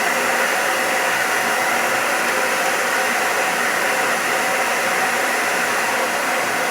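A Taiff Fox hair dryer blows on its cold setting, giving a steady, loud, broadband rush of air that stays unchanged and close for the whole stretch, with no voices over it.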